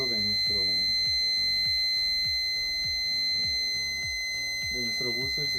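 Buzzer on a magnetic sensor training setup sounding as the sensor detects an object, a repeated electronic beeping under steady speech, with short tonal pulses recurring throughout.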